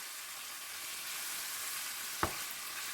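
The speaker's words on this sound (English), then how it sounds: "We are frying it in a bit high heat." About 400 grams of room-temperature meat sizzles in a pan over high heat, a steady broadband frying hiss throughout, with one brief sharp clatter near the end.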